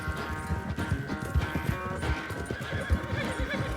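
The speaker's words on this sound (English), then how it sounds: "Cara, que esse cavalo meu é muito bravo" A horse neighs and whinnies in Red Dead Redemption 2 over hoof clip-clops and a busy game soundscape, the calls rising loud and close amid steady background noise.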